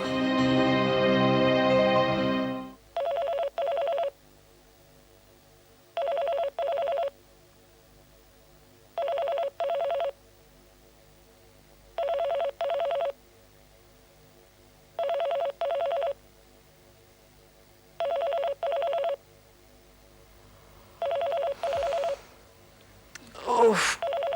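A telephone rings in regular double bursts, seven times with pauses between, clear and fairly close, after a brief burst of music at the start.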